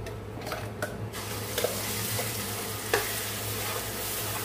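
Kashmiri red chili powder and a ground paste fry in ghee with a steady low sizzle, broken by occasional soft stirring clicks and scrapes.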